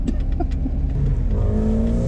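A BMW E46 drift car's engine runs loud and close, holding a steady growl before revving up in a rising sweep.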